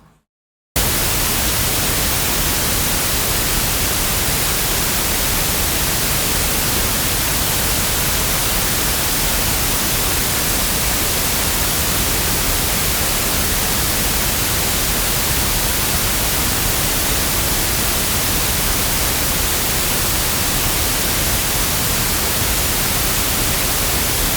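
A harsh noise wall track: dense, unbroken static hiss, loud and spread across the whole range, starting abruptly after a brief moment of silence and holding steady without pause.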